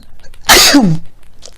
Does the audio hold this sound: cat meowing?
no